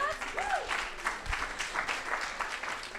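Audience applause at an alumni association annual meeting during a reunion class roll call, steady clapping across the room with brief cheers and a voice rising over the noise.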